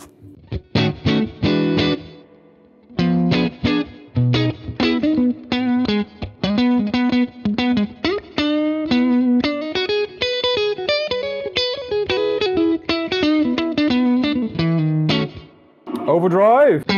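Electric guitar played through a Fender Tonemaster Twin or Deluxe Reverb Blonde amp with reduced reverb, strummed chords and picked notes in phrases with short gaps, fairly dry and clear, ending with a brief sliding tone.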